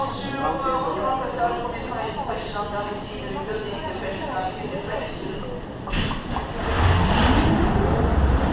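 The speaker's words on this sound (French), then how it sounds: "on a eu le launch du sound tracker rouge" The red Rock 'n' Roller Coaster at Disneyland launches with a sudden loud roaring whoosh as the train accelerates away, preceded by crowd chatter and talk nearby.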